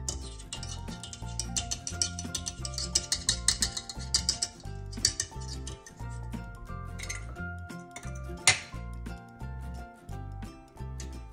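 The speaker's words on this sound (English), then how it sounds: "We will now remove the wire whisk attachment." A wire whisk attachment is removed from a stand mixer after beating cheesecake batter, with a run of bright metallic clinks and rattles against the bowl, some sharp taps, and a quieter stretch with a few clanks.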